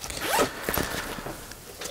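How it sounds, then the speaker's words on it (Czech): A zipper on an inside pocket of a large MIL-TEC Assault II backpack is pulled in a quick rasping stroke, followed by a second, lighter zipping pass, close and clear with no talking. "Uvnitř máme jednu kapsu uzavřenou zipem, není příliš hluboká."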